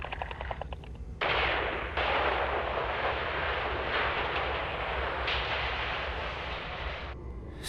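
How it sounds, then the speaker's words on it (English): A loud, sustained blast and roar of an explosion in the video game StarRupture follows a brief burst of rapid clicks, rumbling on with surges for several seconds, with no speech. "Blow it up! Blow it up!"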